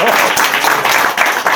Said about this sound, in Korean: 박수를 할 거면 이왕이면 해보세요